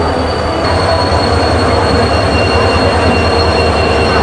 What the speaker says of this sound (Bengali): 20 নম্বর প্ল্যাটফর্মে আমাদের ট্রেন প্রবেশ করেছে